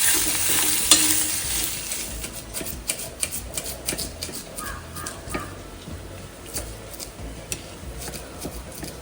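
An asafoetida tempering for egg curry sizzles in hot oil with a steady close hiss, sharp crackles and occasional stirring taps throughout, and no one speaks.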